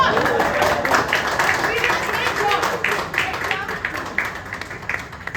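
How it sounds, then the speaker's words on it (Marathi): Dense, sustained applause from an audience at a Marathi film event for Google Aai, a steady wash of many hands clapping loudly throughout, gradually thinning toward the end. "प्लीज आमच्यासाठी टाळ्या वाजवा यार"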